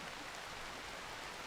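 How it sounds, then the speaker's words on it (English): Steady rain falls in the RimWorld PC game, a soft, even hiss of drops on a surface that stays constant and faint with no voices. "And the rain has been coming down for the past"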